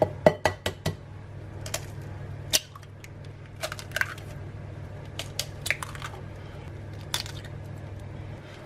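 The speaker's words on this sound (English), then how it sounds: "And whisk that in until they're fully incorporated." Whisk clinking and tapping against a bowl while eggs are beaten into a yogurt batter for a gluten-free chocolate chip loaf cake, with sharp irregular metallic taps, a dense cluster at the start, then scattered strikes over a low steady hum.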